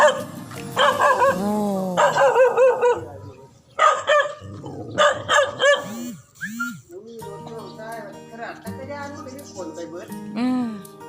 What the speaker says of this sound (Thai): เห่าอะไร